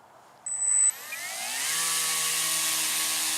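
E-Flite Timber X RC airplane with an electric motor, taking off and flying slowly with flaps down: a steady whining buzz that rises in pitch as the throttle comes up, then holds a sustained drone, loud and close.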